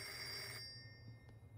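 An old telephone ringing in the Reveil video game, a shrill bell tone sounding for about half a second, then cutting off to a quiet hum with a faint knock.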